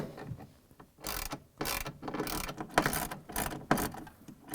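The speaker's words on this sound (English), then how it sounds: "we're going to take out the two 10mm bolts here, and we are going to release this clutch motor" Ratchet wrench backing out two 10mm bolts holding the clutch motor on an LG/Kenmore washer, a series of close, loud bursts of rapid clicking separated by short pauses, with no talking.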